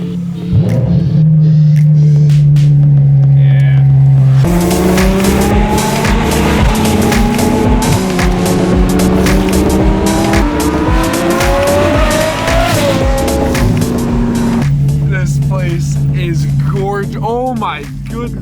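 McLaren 720 supercar fitted with a custom exhaust on a cold start, a loud sustained engine drone that jumps to a higher, louder pitch and then settles back down, with talking over it.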